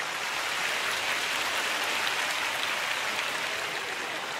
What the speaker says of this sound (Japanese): ではジュリエッタだと思う方拍手してください。